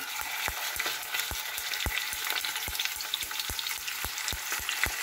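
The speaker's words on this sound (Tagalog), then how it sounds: "At, iprito po natin yan." Chicken cooked with Sprite frying in a pan, a loud steady sizzle close up, punctuated by regular sharp ticks and pops roughly every half second, with no talking.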